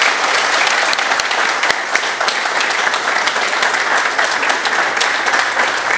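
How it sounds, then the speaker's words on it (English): Loud, dense audience applause for a guest speaker at a talk. Many hands clap close by in a continuous wash that holds steady for the full six seconds. "Let's give a round of applause for our speaker today"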